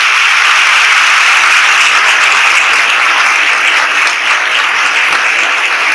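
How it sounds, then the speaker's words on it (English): Loud, continuous applause from an audience at a military talk, dense and even clapping that fills the space steadily with no break and no voices on top. "I think you should give him a big round of applause."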